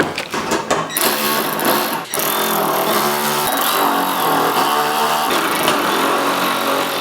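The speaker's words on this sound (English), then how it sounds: "This is my first time, maybe second time using this Ryobi 3/8 electric ratchet." A Ryobi 3/8-inch electric ratchet drives 13 mm bolts to fit casters, giving a loud, continuous motorized whir with a few short clicks at the start, close up with no talking.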